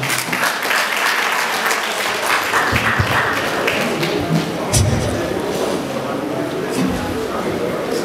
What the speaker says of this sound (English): Please let us clap for him now.